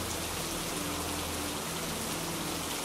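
Steady rain falls around an outdoor sanctuary, a dense, even hiss of drops on surfaces that continues unbroken at a soft, constant level throughout.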